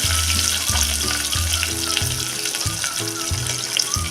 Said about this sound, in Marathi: कांदा आता छान मऊसर होईपर्यंत आपण हा परतून घ्यायचा आहे